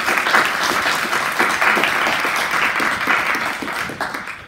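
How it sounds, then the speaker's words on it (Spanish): An audience applauds a speaker at a university lecture on critical legal education, with dense, even clapping that holds for several seconds before thinning at the end. "les agradezco un aplauso para ella."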